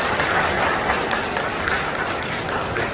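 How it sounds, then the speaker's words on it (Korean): Guests at a wedding hall ceremony clap together, a dense, continuous burst of applause at steady loudness with no speech over it. "박수 부탁드리겠습니다."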